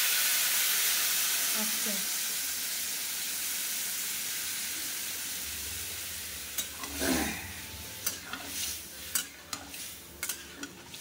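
Hot water poured into frying spice masala sets off a loud, sustained hissing sizzle that slowly fades, followed by stirring clinks and scrapes, with a brief spoken word near the end.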